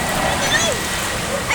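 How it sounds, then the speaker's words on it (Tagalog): Floodwater during Typhoon Kristine splashes and sloshes in a continuous broad wash, with someone speaking over it. "Sobrang baha dito"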